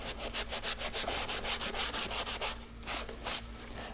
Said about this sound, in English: you can take a microfiber towel and just wipe it